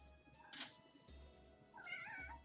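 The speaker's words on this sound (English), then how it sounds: "Bad kitty." A pet cat lets out a couple of short, faint meows and chirps nearby, with light handling noise and no one talking.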